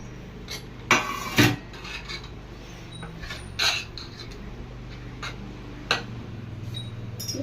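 Cut vegetables, drumstick and tomato pieces, are dropped into a cooking pot for sambar, giving a few scattered sharp clatters and knocks against the pot amid quiet kitchen background.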